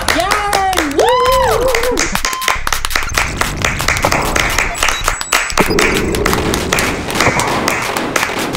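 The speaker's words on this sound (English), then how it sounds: "Clap, everybody clap!" A small group claps in quick, sharp, irregular hand claps that carry on throughout, with excited whooping and cheering voices over the top near the start.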